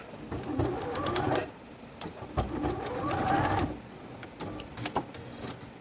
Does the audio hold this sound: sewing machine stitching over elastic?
yes